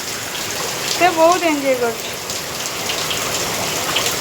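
Heavy rain pours in a steady dense hiss, with a voice speaking briefly over it.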